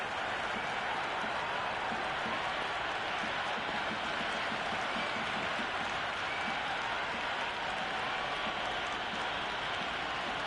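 Cheering and applause from a stadium crowd in the cricket video game Cricket 26 at a T20 match, a dense, steady wash of clapping and noise that holds at an even level throughout.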